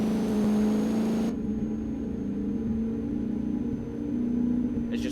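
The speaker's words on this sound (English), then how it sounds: "I am just really disappointed with the sound of this engine. Or this exhaust rather." A Ford Focus RS engine and exhaust in American Truck Simulator drones steadily at low revs, a muted rumbling hum that drops in intensity partway through, then swells briefly, with no talking over it.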